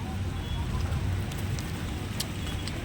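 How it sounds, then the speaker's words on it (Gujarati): A steady, soft hiss of light drizzling rain falls in Gondal, even and continuous, with faint voices talking beneath it. "વરસાદનો ઝરમરાટ ધીમે ધીમે ચાલુ છે"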